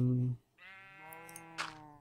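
A single drawn-out sheep bleat on a Minecraft animal farm, clear and close after a brief burst of talk at the start.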